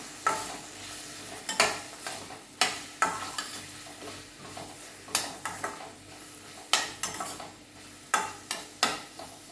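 Chopped capsicum, boiled peas and corn are sautéed in a pan for a vegetable matka biryani, a soft sizzle under repeated clacks of a spoon stirring against the pan.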